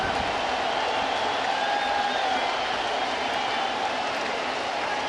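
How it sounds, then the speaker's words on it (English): A large baseball crowd at Fenway Park roars during a Red Sox home game against the Angels, a dense, steady wall of cheering and murmur that holds for the full five seconds without letup. "And the crowd is up at Fenway."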